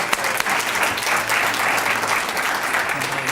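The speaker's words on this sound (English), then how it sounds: "I just want to give a big round of applause to Miss Beckham." Sustained applause from a banquet audience at a school academy and scholarship event, dense steady clapping filling the room for a few seconds without letup.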